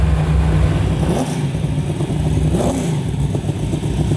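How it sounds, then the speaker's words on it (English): A 900 hp NASCAR engine in a 1970 Plymouth Cuda roars loudly and close, its revs rising and falling in quick snaps without any talk. "I mean, it's crazy how the RPMs just jump."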